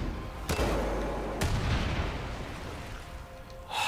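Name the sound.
gunfire in video game Far Cry 5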